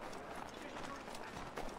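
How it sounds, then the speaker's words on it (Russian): Horse hooves clip-clop at a running pace through the streets in Assassin's Creed 3, a dense patter of close, quick hoofbeats. "Я буду на лошадях двигаться."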